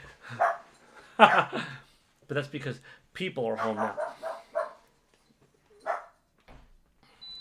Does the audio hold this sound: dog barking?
yes